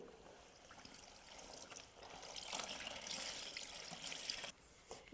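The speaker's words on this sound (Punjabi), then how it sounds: "ਹੁਣ ਆਪਾਂ ਛਾਲ ਜਿਹੜੇ ਨੇ ਇਹਦੇ ਵਿੱਚ ਡਿਪ ਕਰਾਂਗੇ" A shawl is dipped and worked in a basin of vinegar water for cleaning, producing quiet, close splashing and trickling that swells midway and then drops off near the end, with no talking.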